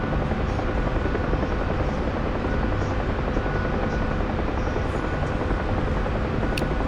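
Helicopters operate near a ship, their rotors and engines thudding in a loud, unbroken roar that stays close and steady throughout.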